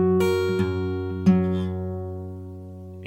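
Acoustic guitar playing the next verse part of a song, a few plucked notes and open strings ringing out clearly and sustaining, close and solo without voices.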